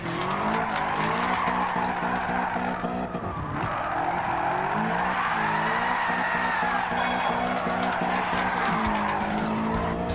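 Car tires skidding and squealing through a long Formula Drift–style slide in Gran Turismo 7, engine droning steadily underneath, loud and continuous with only a brief dip partway through.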